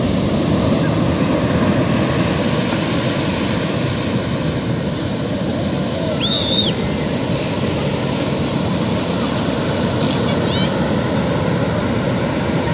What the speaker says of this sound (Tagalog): So kuha natin yung mga alon na malalayo, oh.